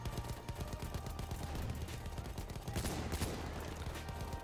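Rapid rifle fire from Battlefield 1 crackles in dense, continuous bursts with dull explosions and battlefield clatter mixed in, loud and close throughout.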